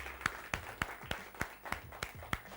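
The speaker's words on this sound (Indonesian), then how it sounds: "Berikan tepuk tangan yang meriah dong buat kita semua" A TV studio audience at a motivational programme claps in a regular, evenly spaced rhythm, around nine distinct sharp claps over a few seconds, moderately quiet and without talk.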